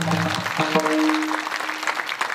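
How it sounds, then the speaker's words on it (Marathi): Audience clapping at a kirtan, a dense patter of hands lasting a couple of seconds, with a sustained sung or voiced tone weaving through it. "महाराजांनी जोरदार टाळ्या झाल्या पाहिजे."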